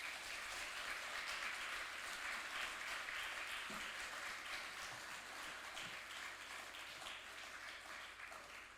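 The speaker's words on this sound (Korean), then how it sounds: "나오실 때 우리 힘차게 박수로 한번 환영하도록 하겠습니다" A church congregation applauds to welcome a preacher to the pulpit at a special service, a steady, even wash of many hands clapping throughout, heard from some distance and fairly faint.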